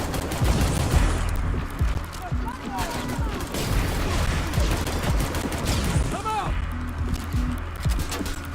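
Continuous gunfire and plasma weapon blasts in Terminator Resistance, dense rattling bursts with crashes and mechanical noise, loud throughout while a voice talks over the fighting.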